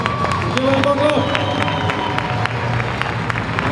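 Audience at an Icelandic horse show, Fákar og Fjör 2013, applauding and cheering in a dense, continuous roar of clapping with crowd noise and voices mixed in.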